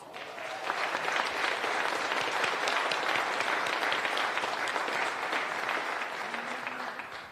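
An audience stands and applauds at the grand opening of a Spectrum call center in El Paso, Texas: a dense, steady ovation of many hands, loud and continuous for several seconds before easing slightly.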